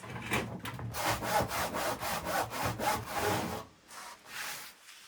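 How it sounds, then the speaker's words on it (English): A hand saw rasps through very hard wood in quick back-and-forth strokes, about a dozen close, scratchy pushes and pulls, with a short pause near the end before a few more strokes. "This wood is terrible. It's burning all my saws."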